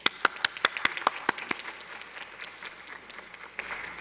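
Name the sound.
applause in a legislative chamber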